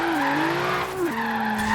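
A 700HP Hyundai Genesis Coupe drifts with a sustained, loud tire squeal over a high-revving engine whose pitch wavers and then drops, all close and unbroken.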